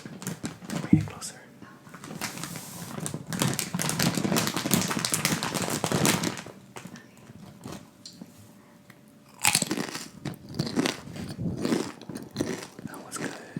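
Close-miked crunching of a Tostilocos snack in an ASMR mukbang, dense bursts of crisp bites and chewing in two long runs separated by quieter pauses, with faint whispering.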